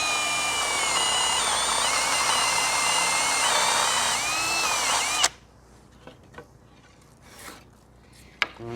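A power drill bores recessed bolt-head holes in narrow timber for a wall plate on steel, a loud steady whine for about five seconds that cuts off abruptly, followed by a few scattered knocks and taps.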